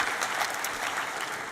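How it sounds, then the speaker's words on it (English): Audience applause fills a hall at the Hult Prize 2025 Global Finals in London: steady, dense clapping from a large crowd, held at an even level throughout. "I want to give you a big round of applause for flying from different parts of the world to be here with us today"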